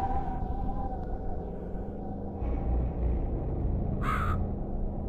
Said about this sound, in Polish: O, wrona.